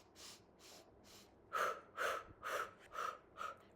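Rhythmic breathing during a Pilates lower-body and core exercise: three soft breaths, then five louder, sharper exhales in an even pulse, close and alone.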